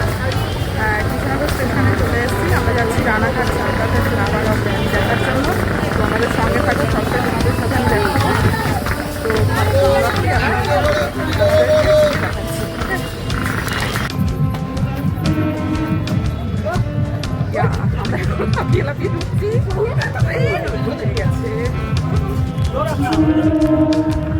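Dense crowd hubbub on a busy platform at Krishnanagar railway station, steady and loud throughout, with overlapping voices, footsteps and station bustle.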